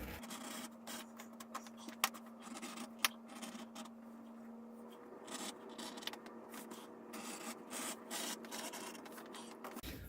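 A leather strap has its edge bevelled by hand with a tool, close and quiet: repeated scraping strokes and small clicks, with a faint hum running through the first half.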